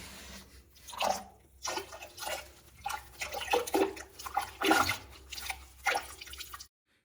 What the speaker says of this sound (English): Remove the remaining water from the tank with a sponge.